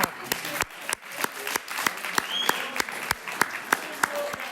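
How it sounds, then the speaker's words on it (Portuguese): A church class group claps for Rafael, a lively round of applause with several sharp, distinct hand claps standing out near the listener and voices murmuring faintly underneath. "Salve de palmas."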